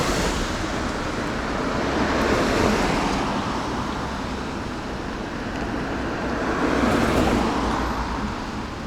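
A Toyota Supra drives past on a road by the seaside in Japan, its steady engine and tyre roar blending with traffic and wind noise and swelling slightly as it passes.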